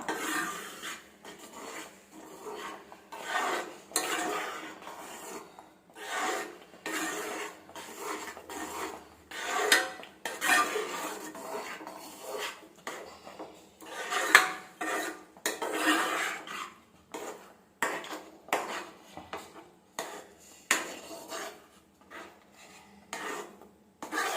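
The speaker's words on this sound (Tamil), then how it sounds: "மீடியம் ஃப்ளேம்லேயே வச்சுக்கிட்டு பேக்கிங் கிண்டி விடுவோம் மெதுவாக" Rava being stirred slowly in a pan over a medium flame, repeated dry scraping and rasping strokes of a spoon against the pan bottom in an irregular rhythm, close and fairly quiet with no voices.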